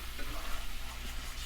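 Shrimp and scallop scampi cooking in a pan, a steady moderate sizzle with soft stirring scrapes, close and continuous.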